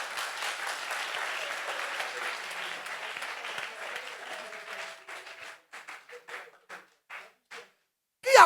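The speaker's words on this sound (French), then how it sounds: "acclame le Seigneur pour lui" A church congregation bursts into sustained, dense applause in praise of the Lord, then the clapping thins into a few scattered, spaced claps that fade out before a brief loud knock at the end.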